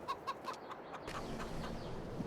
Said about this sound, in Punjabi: ਵਿੱਚ ਕਾਲੀਆਂ ਵੀ ਫਿਰਦੀਆਂ ਦੇਸੀ ਮੁਰਗੀਆਂ